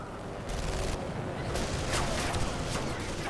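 Grenade blast and surrounding gunfire in the crime shooter video game Call of Juarez: The Cartel, a dense roar of explosive bursts and cracks filling the few seconds loudly and continuously.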